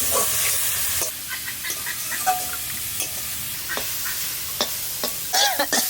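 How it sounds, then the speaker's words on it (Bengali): Mustard greens fry in a pan with a soft, constant sizzle, broken by scattered crackles, pops and scraping stirs, fairly close with no speech. "দেখেন শাক কটা ভাজতে ভাজতে একটুখানি হয়ে গেল।"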